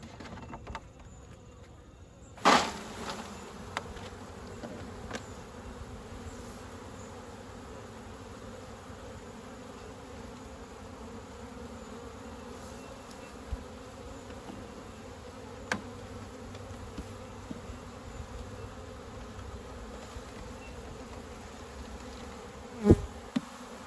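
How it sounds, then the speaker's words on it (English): Honey bees (Apis mellifera) drone steadily around an open hive during an autumn varroa check, a continuous close buzz with occasional louder passes of single bees near the listener. "Hopefully there's enough nurse bees on there."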